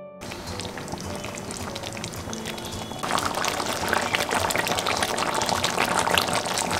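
Meat curry with tomato simmers in a pot after hot water is added: a dense, continuous bubbling that grows noticeably louder partway through.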